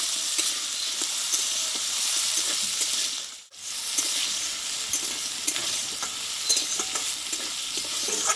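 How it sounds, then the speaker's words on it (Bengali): Diced potato filling fries in hot oil with a loud, constant bright sizzle, stirred now and then with soft scraping taps, briefly dipping quiet midway before the frying resumes. "এই আলুটা কিন্তু আমি কিছুক্ষণ নাড়াচাড়া করে নিয়েছি তেলে"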